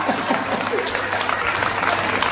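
Dense audience applause for a performer at a village anniversary celebration, a loud continuous crackle of many hands clapping, with no voices over it.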